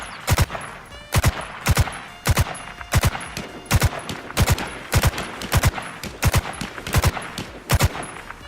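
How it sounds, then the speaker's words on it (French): Gunfire in the video game H1Z1: loud, close bursts of rapid shots in a steady repeating rhythm, paired cracks recurring roughly every half second throughout. "Il y a des tirs par contre."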